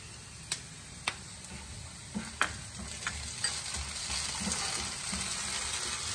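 Chicken lollipops fry in a pan with Schezwan sauce: a soft, steady sizzle is broken by a few sharp utensil taps and clicks, fairly quiet and close, with no voices.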